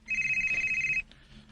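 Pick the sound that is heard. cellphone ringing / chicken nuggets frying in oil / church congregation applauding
cellphone ringing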